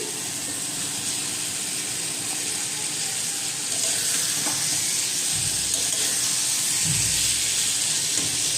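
Steamed taro pieces dropped into a cooked spice masala in a pan, frying with a constant loud sizzle and hiss, and a few heavier clunks of stirring and scraping partway through.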